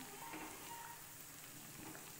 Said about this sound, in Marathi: इथे तूप पण कडायला लागलंय छान